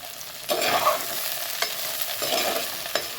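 Okra (vendakkai) frying in oil in a pan for tamarind kuzhambu, a continuous close sizzle broken by a few scraping stirs of the spatula, with no speech.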